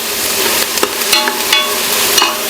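Onions fry in a pan on a home stove, a steady bright sizzle broken by several sharp clinks and scrapes of stirring.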